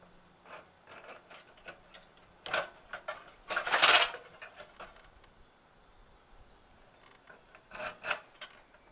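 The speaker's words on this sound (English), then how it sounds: "what I'm doing, I'm cutting the copper around that thing." Copper is cut away from a scrap part in scattered bursts of scraping and snipping, close and fairly quiet, with pauses between strokes.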